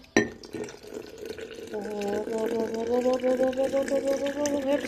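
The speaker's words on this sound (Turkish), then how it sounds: "Şimdi birazcık su dökelim." Water and strawberry milk pour into a container as a liquid stream that rises in pitch while it fills, with a Turkish-speaking voice talking over it throughout.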